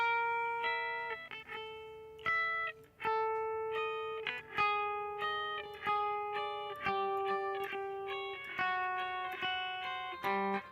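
Guitar practice exercise using the third and fourth fingers, single downstrokes sweeping across the strings as clean, ringing notes in a steady repeated pattern, close and alone with no talking.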